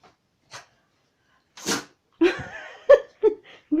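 A bulldog sneezes indoors: a few faint snorts and sniffs, then one sharp, close sneeze followed by a quick run of smaller snorting sneezes and puffs.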